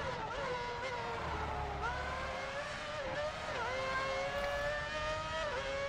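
Formula One race car engine screaming through a lap in the video game F1 Championship Edition, a loud, continuous high-pitched whine rising and dropping with gear shifts, with no talking.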